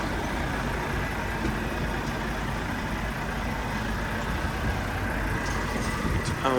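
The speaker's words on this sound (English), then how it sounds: "We've got Warren Dowse moving his tractor unit and generator into place." A heavy diesel engine rumbles steadily nearby, a constant low drone of a tractor unit idling or creeping slowly into place at a street fair, with no voices.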